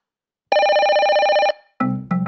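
A telephone rings in a Korean radio advertisement for a call-screening service: one loud, steady electronic ring burst lasting about a second, followed after a short pause by two shorter, lower ringtone bursts.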